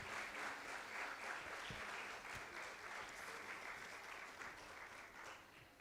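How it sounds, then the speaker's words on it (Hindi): An audience at an award ceremony applauds steadily to welcome a guest onto the stage, with dense, sustained clapping from a crowd lasting several seconds. "स्वागत करें जोरदार तालियों के साथ"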